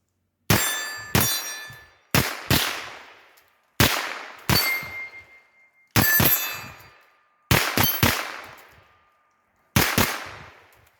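Rifle shots at a range, each followed by the ringing clang of a struck steel target, about ten sharp reports in uneven pairs and singles, loud and close with no talk.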